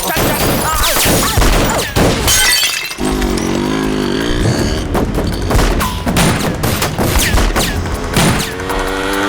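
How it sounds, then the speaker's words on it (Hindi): Gunfire and crashing impacts from a gun fight in a South Indian action film, dense rapid bursts and smashing sounds layered with music and shouts, loud and chaotic throughout. "ये गन फाइट है, स्टंट शो की तरह"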